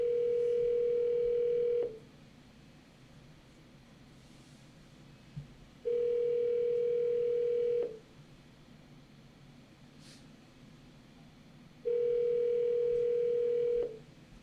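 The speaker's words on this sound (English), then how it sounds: "If someone's next to John Fernandez, can you ask him to please answer the phone?" A telephone line rings out unanswered during a call, with three long, steady tones spaced evenly and separated by quiet gaps, each clear and alone.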